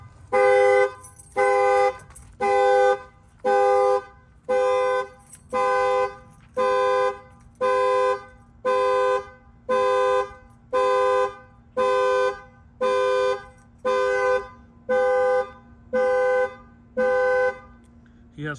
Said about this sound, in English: You're gonna see that the alarm's gonna set off.